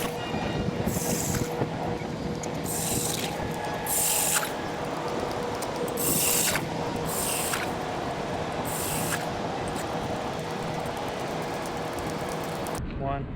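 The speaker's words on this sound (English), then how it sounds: "I'm going to go ahead and drill 9 holes in a rectangular shape" A power ice auger bores fishing holes through lake ice for panfish, making a steady, close mechanical grinding with repeated brighter surges that come and go, then stopping abruptly at the end.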